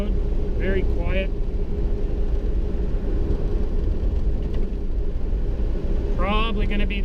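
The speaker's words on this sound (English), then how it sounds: "Car drives straight down the road, very quiet." A 1939 Mercury Eight cruising straight down the road produces a continuous low, smooth rumble of engine and road noise, with a couple of brief voices talking over it.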